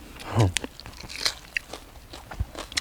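Crispy deep-fried molting insects crunch under close, repeated bites amid spicy chili dip, the crackly chewing sounding in short bursts while people talk nearby.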